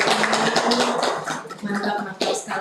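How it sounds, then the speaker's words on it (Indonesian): Dense, steady applause from an audience fills a lecture hall during a teaching presentation, with scattered voices mixed into the clapping and a brief lull before it swells again near the end. "Oke, kita berikan aplaus dulu ya."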